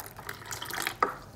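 Water pouring into rice and avalakki dosa batter in a mixer jar, a soft continuous trickle and splash close by, with a brief sharper splash near the end and no talking.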